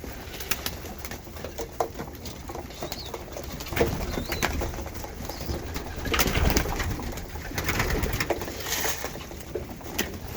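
Young racing pigeons coo steadily while being fed, a close, continuous flock murmur with occasional wing flaps and scuffles throughout.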